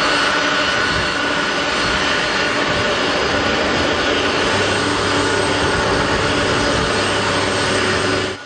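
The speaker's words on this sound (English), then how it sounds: "The Air China 747 jumbo jet welcomed with a water cannon salute." An Air China Boeing 747 jumbo jet arrives with a loud, continuous jet-engine roar that holds steady and close throughout, then cuts off abruptly at the end, with no talking.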